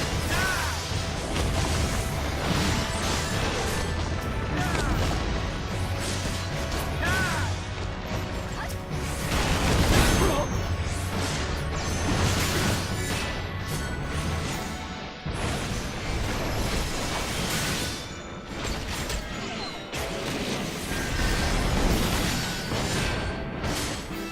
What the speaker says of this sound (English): Why don't we get hit by the cannon fire?